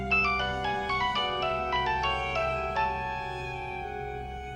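A phone rings with a call from the police station, playing a melodic electronic ringtone of bright repeating notes that rings clearly over a low background hum and fades slowly toward the end.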